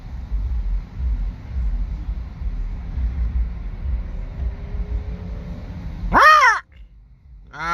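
A single loud, close caw from a crow rings out near the end, after a stretch of low rumbling background noise, as a large flock of about thirty birds feeds on a rotisserie chicken.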